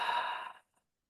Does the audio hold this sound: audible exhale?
yes